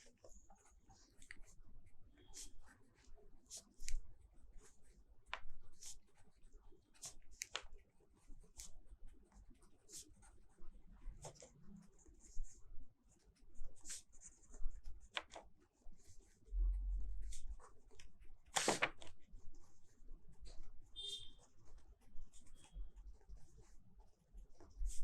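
Quiet scratching and tapping of a pen writing formulas by hand, in scattered soft strokes with pauses, faint and close.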